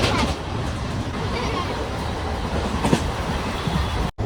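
A passenger train runs along the tracks with a steady, close rattling rumble and faint clickety-clack of the wheels. Voices talk under the noise before it cuts off abruptly at the end.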